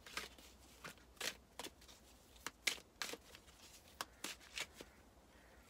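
Notes from the Universe oracle cards being shuffled, soft close riffling and slapping bursts in an irregular rhythm, quiet and alone.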